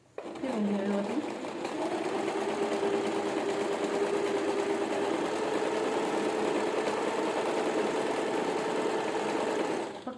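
A sewing machine stitches a canvas lining together with blouse fabric, running in one steady, close hum from start to finish with a brief change in pitch at the outset.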